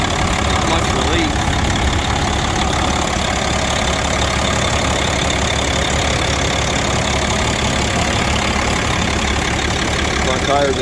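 A tractor at an auction idles loudly close by, a constant, steady engine drone with a faint knocking texture that stays unchanged throughout, with speech mixed in.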